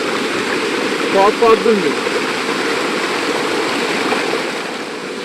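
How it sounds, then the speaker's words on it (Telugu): A waterfall in the Mandalpatti forest of Coorg rushes as a steady broadband roar through the whole stretch, with a voice briefly speaking over it. "లోపల ఇంకా వాటర్ ఫాల్స్ ఫుల్గా ఉంది"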